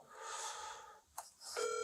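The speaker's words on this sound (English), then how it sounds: "I'm going to call the state attorney real quick on my phone" A mobile phone dials out a call, a short run of electronic tones and beeps ending in a sustained steady ring tone, faint and without voices.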